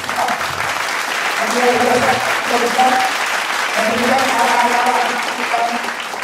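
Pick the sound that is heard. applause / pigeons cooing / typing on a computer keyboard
applause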